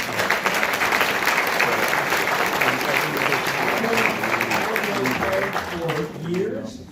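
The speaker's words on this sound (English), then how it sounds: "we can give applause." An audience at a sheriff candidate debate claps in a sustained round of applause, dense and fairly loud, with voices mixed in beneath and a speaker starting up as it tapers off.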